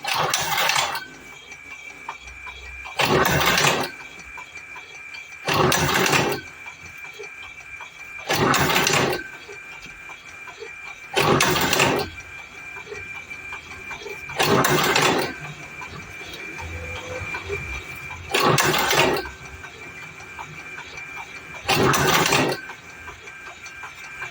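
Karaşimşek TM Pro tobacco processing machine cycling through its start, giving eight loud, regular bursts of rattling, clattering mechanical noise about every three seconds over a steady humming drone, with no talk.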